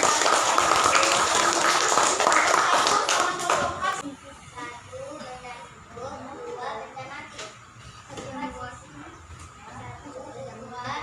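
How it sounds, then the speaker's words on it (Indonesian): A classroom breaks into a burst of clapping for a student discussion group, loud for a few seconds before fading into children chattering and a teacher's voice. "Berikan tepuk tangan untuk kelompok 2."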